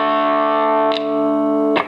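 A distorted electric guitar chord rings loud and sustained through the dirty channel of a 2002 Fender Twin amp, cut by a strum noise and then a second attack.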